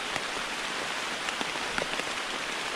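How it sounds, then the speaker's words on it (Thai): Steady rain falls through a deep forest in Karen State, Myanmar, a dense even hiss with scattered louder drops pattering on leaves, close and constant with no voices. "นี่เพื่อนดูสายฝนครับ ก็ขอภาวนาให้ฝนนะครับหยุดตกเร็วๆนะครับ"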